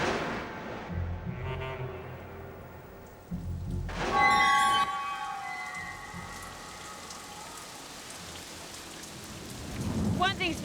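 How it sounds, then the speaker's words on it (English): Heavy rain falls steadily in inland Australia during a thunderstorm, with a loud thunder crack and rolling rumble partway through and another swelling rumble near the end. "Thick clouds filling the horizon, and best of all, rain."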